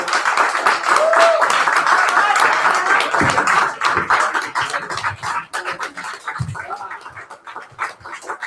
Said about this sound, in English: Can we give him another warm round of applause?